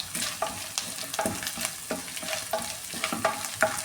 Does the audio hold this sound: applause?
no